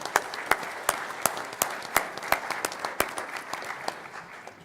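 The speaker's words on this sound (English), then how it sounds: "So I want to give you guys a round of applause." Applause from an audience at an auto dealers' association legislative meeting, a steady wash of many hands with a few sharp, close claps standing out at a regular beat, holding level for several seconds.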